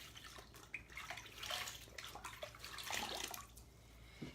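Running water splashes and sprays against a chalkboard, washing off unsealed chalk, with irregular bursts of wet scrubbing rising and falling in loudness.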